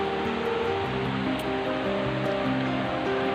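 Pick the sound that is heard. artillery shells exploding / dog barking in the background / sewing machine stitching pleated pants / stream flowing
stream flowing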